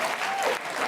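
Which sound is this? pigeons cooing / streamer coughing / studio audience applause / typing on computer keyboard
studio audience applause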